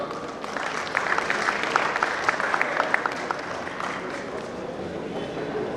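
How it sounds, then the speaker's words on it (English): Steady applause from a school centenary gathering, continuous and fairly distant, with scattered sharper claps standing out from the dense wash of hands throughout. "so let's big round of applause"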